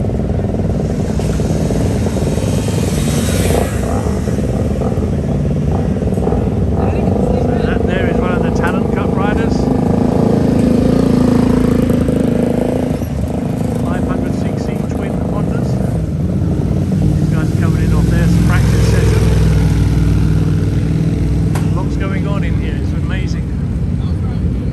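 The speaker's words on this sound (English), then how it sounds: "These two bikes coming out, these are Southern Honda sponsored bikes. These are 500 cc's." Two Southern Honda sponsored 500cc racing motorcycles pulling out at Road Atlanta, loud sustained engine roar rising and falling close by, with someone talking over it.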